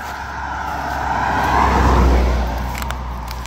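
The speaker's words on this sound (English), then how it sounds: "As I get out of the way of this car." A car passes a hiker on a road during a long-distance trail walk, a loud rumble swelling and fading as it goes by, with nearby wind and roadside noise.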